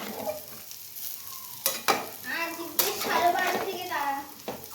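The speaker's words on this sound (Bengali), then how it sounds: "এইদিকে হচ্ছে শাক ভাজা আজকে দুটো কড়াই বসিয়েছি" Greens (saag) fry in a wok, giving a continuous sizzle with sharp stirring scrapes and clatters, while adults and someone talk over it.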